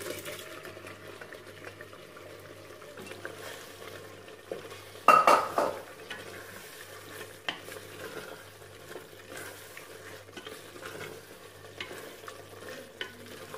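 Boiled mutton is tipped into a pot of sizzling masala and stirred, giving a loud wet splash and clatter followed by a steady low hiss and occasional spoon scrapes, with no voices.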